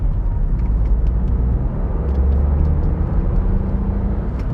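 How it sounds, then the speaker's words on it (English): A car speeds up along a UK dual carriageway, its engine and road noise making a steady, loud low rumble close by throughout, with no talk. "So don't be afraid to put your foot down on the gas to get the speed up quickly"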